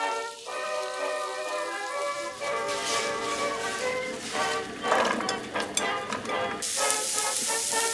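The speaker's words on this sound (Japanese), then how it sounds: "炒めと煮込みをマルチタスクで進める。" Vegetables and chicken sizzling in a pan as they are stir-fried, a steady crackling hiss that swells and sharpens toward the end, with no talk.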